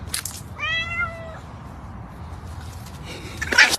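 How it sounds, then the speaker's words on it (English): A cat gives a single clear, drawn-out meow close by, with soft rustling and a brief sharp sound at the end. "So this is my cat."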